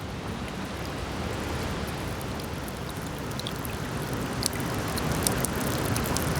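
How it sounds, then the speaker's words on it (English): Rainwater spills off a snack bar roof onto snow in a quiet Ottawa park, a steady hissing patter of close drips and splashes with no voices, the loud rush of waterfalls blending in behind. "since it's raining today, you can also hear the water rolling off the roof and hitting the snow on the ground"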